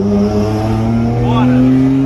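An Audi R8 accelerating nearby, a loud, steady engine note rising gradually in pitch, with no talk over it.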